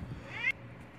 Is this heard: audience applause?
no